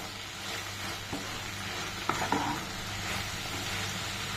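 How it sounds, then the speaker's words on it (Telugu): Okra and tomato curry fries in a pan with a soft continuous sizzle, while a spoon stirs and scrapes the pan with a few brief clinks near the middle. "దీన్ని కూడా మిక్స్ చేసుకొని మళ్ళీ ఒక 2 minutes వేగనిద్దాం"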